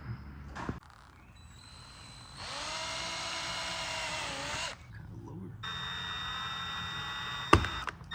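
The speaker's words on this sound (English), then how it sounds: "we'll have to drill some new holes for the bottom 2 to make sure those get lined up right" Holes are drilled for the bottom bolts of a 6th Gen style ZL1 1LE bumper conversion kit on a 2010-13 Camaro, in two steady whining runs of a few seconds each separated by a pause, with a sharp knock near the end.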